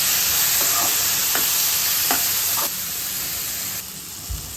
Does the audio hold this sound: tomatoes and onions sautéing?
yes